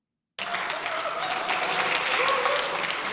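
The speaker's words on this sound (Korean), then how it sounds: "국민의힘 의원들은 기립박수로 격려했습니다." Lawmakers of South Korea's People Power Party in the National Assembly chamber give a standing ovation, sustained dense clapping that starts abruptly after a moment of silence and holds steady and fairly loud throughout.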